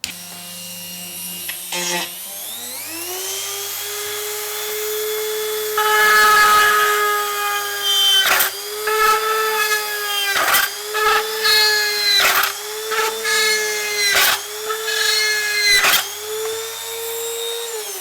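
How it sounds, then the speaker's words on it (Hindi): An MPT 160W electric rotary tool drills a series of holes in a plastic sheet, its high whine spinning up and then repeatedly dipping and recovering as each hole is cut, close and loud with no talking. "उसके बाद मैं इसके अंदर सुराख करता हूँ।"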